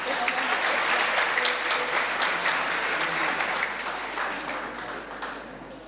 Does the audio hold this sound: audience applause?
yes